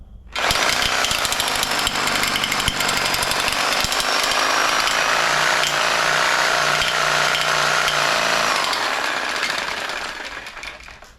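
A heavy Rust-oleum Turbo spray paint can shaken hard and steadily for about ten seconds, a loud, continuous rattling clatter with no pauses that tapers off at the end.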